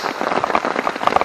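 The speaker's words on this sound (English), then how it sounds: "I'm just going to take you guys out for a little rain walk." Rain falls steadily outside a new tent on a solo camping trip, a close, dense patter of drops striking a surface without pause.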